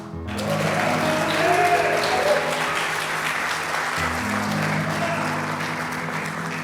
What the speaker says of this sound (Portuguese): E agora eu quero que você aplaude ao Senhor